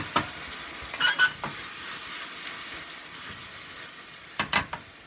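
Bacon and onion jam sizzles steadily in a hot pan as balsamic glaze goes in, with a few sharp clattering stirs near the start and again toward the end over the continuous frying hiss.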